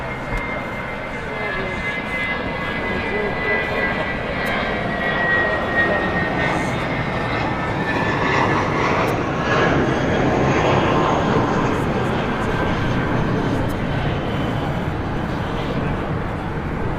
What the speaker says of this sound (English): It'll be a 777 going to Shenzhen on the mainland